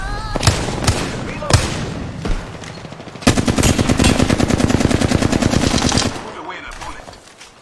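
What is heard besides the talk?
gunfire in a shooter video game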